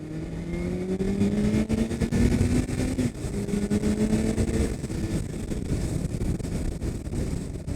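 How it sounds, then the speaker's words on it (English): A 2006 Kawasaki ZX14 (ZZR1400) sport motorcycle engine on a highway test ride pulls hard and steadily, its tone rising through the revs with a shift partway through, under constant loud wind rush. "The power is insane of this bike."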